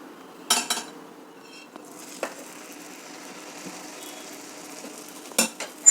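Set dosa batter goes onto a hot pan over a low flame with a faint, steady sizzle, broken by a few sharp clinks of utensils against the pan.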